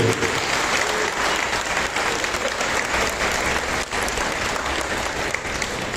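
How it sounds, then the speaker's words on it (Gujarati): Steady, sustained applause from an audience at a school Republic Day celebration, continuous and even throughout, with no other sound standing out. "તાળીઓનો ગડગડાટ ચાલુ હોય છે।"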